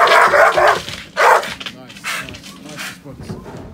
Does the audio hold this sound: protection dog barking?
yes